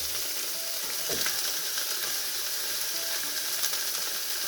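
Green chillies sizzle in hot oil in a kadhai while chicken cooks, a steady close frying hiss with a brief clatter as they drop in, no talking.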